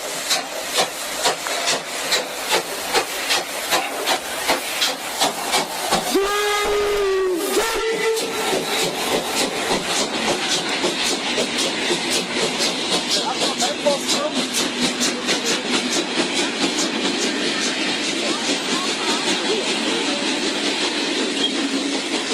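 A steam locomotive whistle blows loud and close, a sustained wavering hoot lasting a couple of seconds, set amid rhythmic chuffing and hissing steam and the steady clatter of rail cars rolling on the track.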